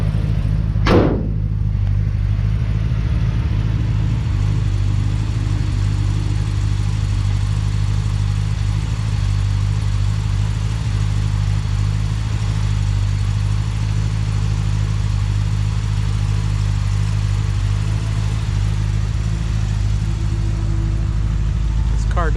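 A 327-powered 1964 Chevrolet Impala Sport Coupe runs at a steady idle nearby, a continuous low hum with a short sharp knock or click near the start and no voices.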